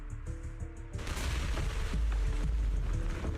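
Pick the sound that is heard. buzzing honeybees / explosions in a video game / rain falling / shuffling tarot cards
explosions in a video game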